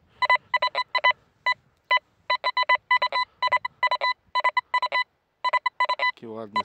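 Rapid bursts of electronic beeping tones from a Golden Mask 4 Xtreme metal detector pulse in quick clusters, loud and close, ending with a brief warbling sweep.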